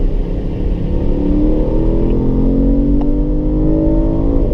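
A Porsche Panamera GTS accelerates down a race track's longest straight, its engine a loud, continuous roar with the pitch climbing steadily through the gear, heard from inside the car with steady road and wind noise.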